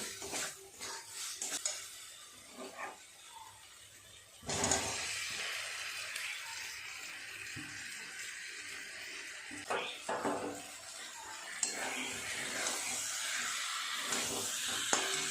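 Small fried potatoes being stirred into a cooked spice masala in a pan, giving a soft hissing sizzle with scraping stirs and light clinks of a utensil against the pan, close by and without talk.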